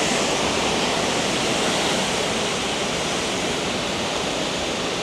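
Big waves crash over a shallow reef off Izena Island ahead of a typhoon, a loud, unbroken roar of surf that fills the whole span with no voices.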